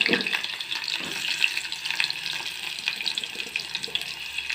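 Onions and green chillies frying in hot oil, a close, dense sizzling hiss with crackling pops throughout.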